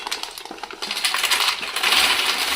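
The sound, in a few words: crunchy fried mathri pieces clinking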